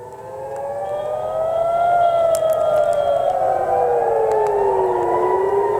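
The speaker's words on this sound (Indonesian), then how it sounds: "Sirine peringatan terdengar di berbagai wilayah, termasuk kawasan pelabuhan utama di Haifa" A wailing air raid siren in Israel rises and falls in long sweeping tones, loud and steady, sounding alone over a faint low rumble.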